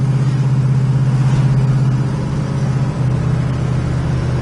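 A 1970 Plymouth Cuda with a 383 V8 drives along, a deep steady engine rumble with throbbing low exhaust tone, heard from inside the car, loud and continuous with a slight dip midway.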